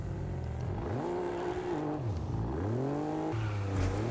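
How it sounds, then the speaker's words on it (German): AI-driven car in Test Drive Unlimited Solar Crown revving hard with spinning wheels, engine pitch repeatedly climbing and dropping in looping swells, steady and fairly close with no speech. "Dann richtig durchdrehende Reifen."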